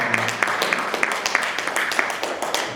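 A congregation at a Thursday prayer meeting claps in a steady, fairly even rhythm, the claps sounding moderately loud and somewhat roomy.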